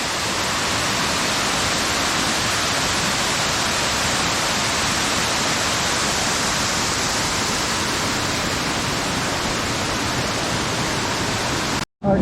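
A waterfall cascade beside a swim hole roars as a steady, dense, close wash of falling water, loud and unbroken before cutting off abruptly at the very end.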